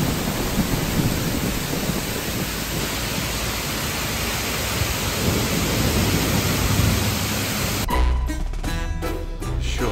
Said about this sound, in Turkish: Abi yağmur ne kelime.